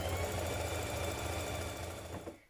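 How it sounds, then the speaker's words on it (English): A sewing machine runs steadily, sewing gathering stitches along the top edge of skirt panels for a summer dress. The even motor whir holds throughout, then trails off and stops right at the end. "Now sew two lines of gathering stitches a few millimetres apart around the top edge of your"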